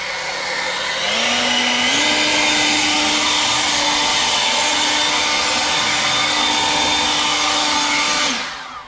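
An EGO LB5302 530 CFM battery leaf blower spins up to a steady, loud high whine and holds it for about seven seconds before winding down, heard alone outdoors with no talk.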